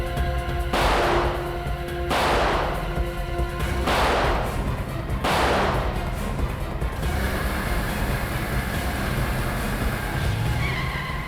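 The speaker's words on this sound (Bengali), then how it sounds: "দেখছিস কি? গুলি চালা।" Gunfire during a car chase in a TV crime drama, four loud sharp shots spaced about every one and a half seconds over a steady engine and road roar, which carries on after the shooting stops.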